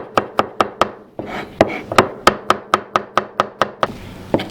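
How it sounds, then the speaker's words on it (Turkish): Quick, regular knife chops through garlic knock on a board in a steady rhythm, briefly pausing with a soft shuffling sound before resuming. "İkili sarımsak doğrayacağız."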